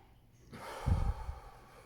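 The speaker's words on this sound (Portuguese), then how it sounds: "Solta pela boca. Inspira pelo nariz." A slow breath in through the nose and out through the mouth, part of a paced three-count breathing exercise, heard as one close, soft airy exhale with a nasal snort-like rush, no talking.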